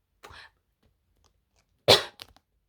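A short breathy burst near 0.3 seconds, then one loud, sharp cough or sneeze-like expulsion, followed by brief faint trailing sounds in an otherwise quiet space.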